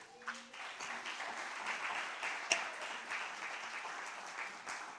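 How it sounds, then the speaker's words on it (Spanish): Applause from a church congregation, a soft, distant wash of clapping that holds steady throughout, with one sharper clap standing out midway. "Dele un aplauso gigantesco a Dios."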